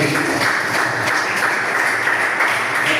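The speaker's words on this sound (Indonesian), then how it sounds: "Kasih tepuk tangan dulu buat kita tadi." A group in a classroom gives a round of applause, steady and moderately loud, with a broad wash of clapping lasting the whole stretch.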